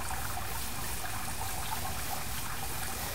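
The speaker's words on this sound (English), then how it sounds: "Water's on. Let's see, here's the true test. We have water flow." Steady water flow from a newly installed drip irrigation system, a constant broadband wash and trickle that stays even and close throughout, with no talking.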